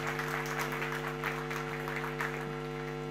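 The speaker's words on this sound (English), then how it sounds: "Give them a big round of applause." An audience at a financial inclusion forum claps in a sustained round of applause over a steady electrical hum in the room, moderately loud and even throughout.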